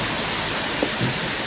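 Steady rain falling outdoors in Vanadzor, a dense even hiss of drops on surfaces with no speech, continuous across the short stretch.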